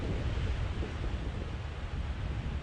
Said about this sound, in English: It is quite windy, as we've said. You can hear it